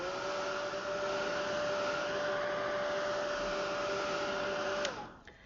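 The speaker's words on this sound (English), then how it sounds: "And now we'll heat set it again." Heat gun heat-setting alcohol ink on a panel, a loud steady whirring blow of air with a faint whine that runs unbroken for about five seconds, then cuts off and winds down.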